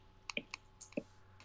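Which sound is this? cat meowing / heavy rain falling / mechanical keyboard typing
mechanical keyboard typing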